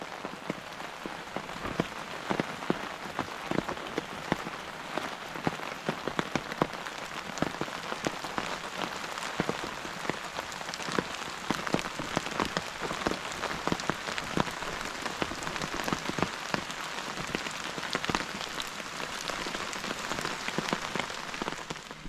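Steady rain patters on the fly of a Decathlon Forclaz Quick Hiker 2 tent left outdoors, a dense continuous drumming of drops with no voices, even and close throughout.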